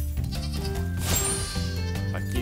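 Sheep bleating in the Spyro Reignited Trilogy video game, a wavering, nasal bleat over the game's steady background music, loud and close for a couple of seconds.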